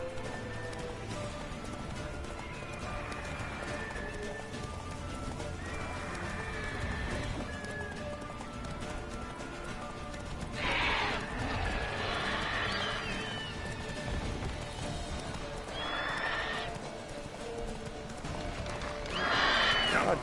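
Horse hooves clip-clop at a gallop with repeated neighing and whinnying in the video game Witcher 3, fairly loud over a steady ambient bed, with a faint voice in the background.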